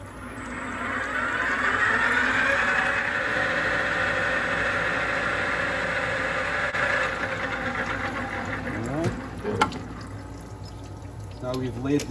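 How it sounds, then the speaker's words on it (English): A metal lathe spins up a long steel spear part, giving a steady whirring drone that holds evenly for several seconds before loosening into rattling and knocks near the end. "let's go ahead and give this lathe a whirl"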